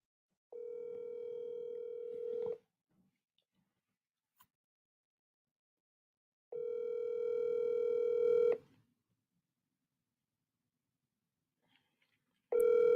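Ringback tones from a telephone call placed live during a comedy show: three long, steady electronic rings, each about two seconds with silent gaps between them, the last cut off. They are clear and alone, with no talking over them.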